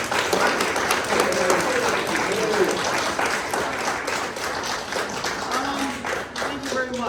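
Audience applause at a gun violence town hall in Philadelphia greeting Councilman David Oh, a dense, steady crowd clapping sustained throughout, with a few voices faintly mixed in.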